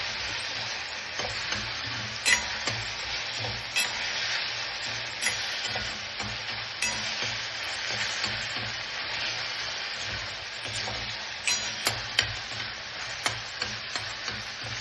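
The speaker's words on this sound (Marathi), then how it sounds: "आपण मिरच्या टाकू, 3 चिरलेले बारीक, ते चांगलं भाजून शिजवून घ्यायचं।" Finely chopped green chillies fry in a pan for a savoury moong usal, giving a steady close sizzle with scattered crackles and pops throughout.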